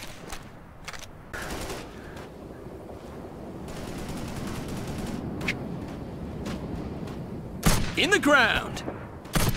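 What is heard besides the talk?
gunfire from the video game Operation Flashpoint Red River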